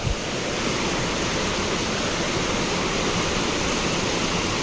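A strong stream rushes across an off-road trail, heard as a loud, dense, continuous roar of flowing water close by, with no break.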